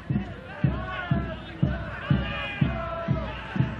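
A soccer stadium crowd reacts during an AZ United match, a loud, steady rumble of voices pulsing to a regular beat roughly twice a second, with voices carrying over it.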